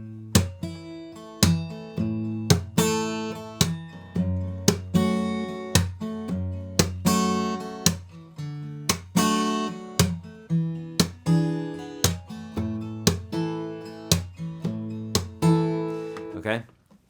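An acoustic guitar strums a steady rhythmic pattern, bright chords struck repeatedly with crisp percussive attacks, played alone and close.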